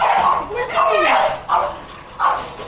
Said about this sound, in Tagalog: Anong aso naman to? Ayan. Japanese. Siberian. Siberian Husky.